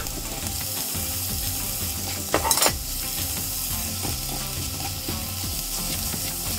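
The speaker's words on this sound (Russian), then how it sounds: "Смесь жарим 10 минут, периодически перемешивая." A vegetable mixture of grated carrot, crushed garlic and chopped herbs sizzles steadily in a frying pan, stirred with repeated scraping and a brief louder clatter partway through, heard close up without talk.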